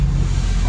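Ford F-250 pickup truck engine starting and running, a loud, heavy low rumble that holds steady through a short moment, close up and without any talk.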